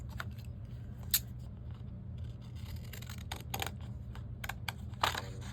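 Paper being snipped with a pair of scissors while journaling, a few sharp, close cuts spaced over steady low background hum.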